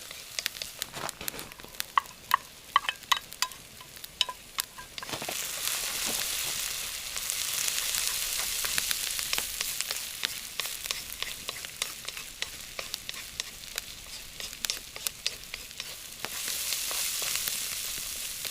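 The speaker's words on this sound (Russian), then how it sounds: "Лук наш уже немножко коричневый, поэтому добавляем туда морковь." Onion and carrot fry in a small kazan over a wood fire, first with sparse crackles and clicks, then a broad steady sizzle that swells as the carrot goes in. The frying sounds close and moderately loud, with no talking.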